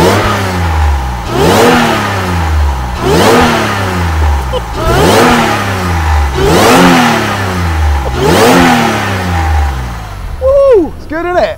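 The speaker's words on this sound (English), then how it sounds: "Let's hear it from this angle, because then we can hear the induction noise, which will be quite impressive as well" A Jaguar XJC restomod engine revs repeatedly, five or six strong rising and falling blips with loud induction roar, heard up close, followed by a short exclamation from a person.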